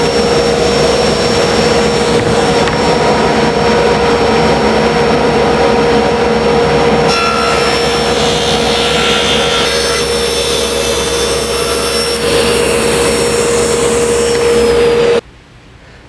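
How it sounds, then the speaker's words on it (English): A table saw rips a large sheet of plywood down to rough size, a loud continuous roaring whine with dust-collection hiss that holds steady for about fifteen seconds before the blade exits and the noise drops off abruptly. "make that first cut to cut the workpiece down to rough size first"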